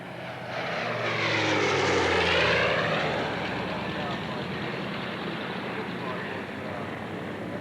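A propeller plane makes a high-speed run at an airshow in Wanaka, New Zealand, roaring past at speed, rising to a loud peak with a sweeping pitch drop, then fading into a steady distant drone.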